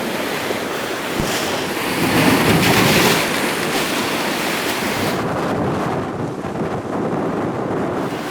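Large sea waves break with overflowing white surf, a loud, continuous roar of crashing water with wind buffeting the microphone, swelling briefly in the middle.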